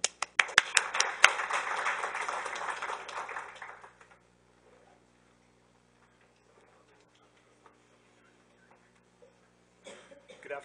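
An audience claps to welcome a panel at a university talk on genetically modified salmon, a few loud opening claps building into about four seconds of steady applause that then stops, leaving near silence.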